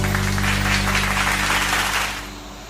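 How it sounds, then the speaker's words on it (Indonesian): Applause from a classroom audience of civil engineering students after a group presentation, a steady wash of clapping over a low electrical hum that thins out toward the end. "Tepuk tangan dulu untuk Virgi."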